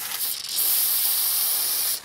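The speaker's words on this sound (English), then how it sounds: "I've been spraying it with Move It, this spray stuff, so it won't rust or nothing" Move It anti-rust spray hisses steadily onto 1996 Yamaha Ovation engine parts, a close, loud continuous aerosol burst of about one and a half seconds, with no talking.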